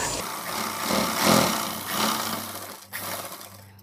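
A sewing machine runs while stitching a pocket into a salwar, its motor whirring and roaring in uneven surges up close. It settles into a steadier hum near the end, with no voices.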